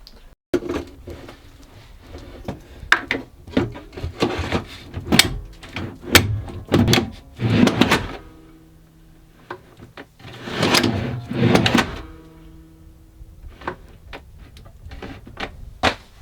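A wooden drawer being fitted and handled during a Ford Transit van conversion, with a string of knocks, slides and clunks in irregular bursts, close and moderately loud, separated by quiet pauses.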